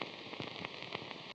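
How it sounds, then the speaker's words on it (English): Vinyl record crackle sits as a faint bed of soft hiss, with scattered small pops and ticks across a second and a bit before cutting off abruptly. "just this vinyl crackle to go along with it"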